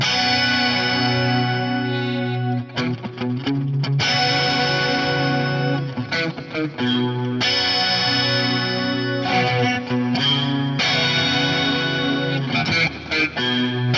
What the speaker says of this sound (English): Let's have a listen to what this quad flanger adds to the tone, and then I'll bring in the reverb and delay combo from the Plex delay.